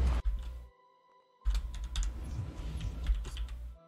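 A faulty computer keyboard's keys clatter in quick, close bursts of typing, a short pause of near silence, then renewed rapid clicking.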